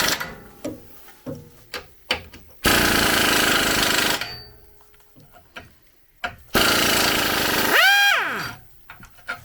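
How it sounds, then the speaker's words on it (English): Impact wrench on the lug bolts of a 2017-19 Ford Super Duty truck during a leveling kit install, firing in two loud sustained bursts of hammering, each about one and a half seconds, with clicking and clanking of tools in between and a rising whine near the end. "So we're going to use the impact, hopefully, get those."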